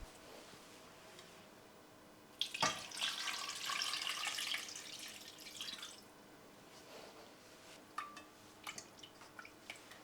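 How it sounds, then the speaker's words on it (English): Water pours into a cooking pot holding pork for braising, a faint trickle that swells into a louder splashing stream for a few seconds, then tapers to scattered drips and small splashes. "Now we'll add the pork to a pot along with just enough water to cover the meat."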